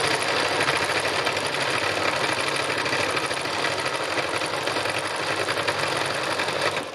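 A sewing machine stitches decorative thread work in a steady, continuous whir with a fast mechanical rhythm, close and loud, running alone without talk.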